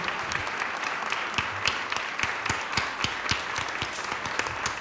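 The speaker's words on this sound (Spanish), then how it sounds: "Un aplauso, por favor, claro que sí, para ellos" At a journalism panel on reporting in wartime, the audience applauds the panelists with sustained, fairly close clapping, individual sharp claps standing out in an even burst.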